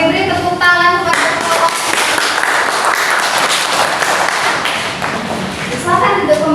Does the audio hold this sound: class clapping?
yes